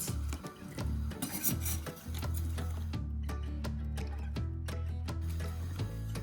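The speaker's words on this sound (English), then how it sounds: "Our onions are ready now, so we'll transfer it back to the plate" A utensil scraping chopped onions from a board onto a plate, a run of rough rubbing scrapes and taps heard over a steady tonal hum.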